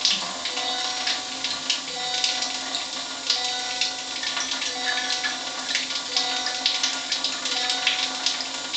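Water runs steadily from a Tyent MMP 11-plate water ionizer, a continuous broadband hiss and splash at moderate loudness, with faint tonal beeps along the way and no talking.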